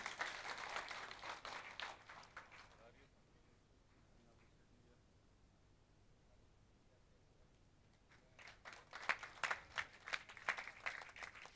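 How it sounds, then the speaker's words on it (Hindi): An audience at a college ceremony claps to welcome an honoured guest, a burst of applause that fades into quiet murmur before a second round of clapping swells up near the end. "ताली बजाकर स्वागत कर दीजिए आप।"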